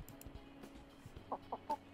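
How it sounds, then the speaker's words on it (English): A hen chicken gives three short, soft clucks in quick succession near the end, faint against a quiet indoor background with low thumps earlier. "spicy buffalo chicken this morning. She looks rounder, which is surprising considering how many feathers she's shed."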